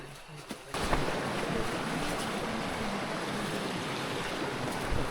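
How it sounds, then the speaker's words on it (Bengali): Waterfall water pouring down at Nafakhum in Bandarban, a steady, full rushing hiss that starts abruptly after a brief quieter moment and then holds evenly. "দিক থেকে ঝর্নার পানি দেওয়া আসতেছে"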